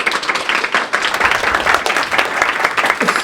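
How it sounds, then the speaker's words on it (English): A full audience applauds at a public affairs program event, steady dense clapping throughout, loud and close with no pause. "Let's give them a round of applause."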